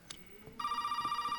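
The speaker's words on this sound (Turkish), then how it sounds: "O telefon çalıyor." In the Resident Evil 7 Biohazard video game, a telephone begins ringing partway through with a loud, pulsing bell-like tone after a few soft thuds, close and clear.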